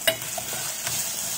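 Pounded chili sautéing over very low heat in a pan, a faint steady sizzle with a quick scrape of stirring at the start and another later, close and brief, with no speech.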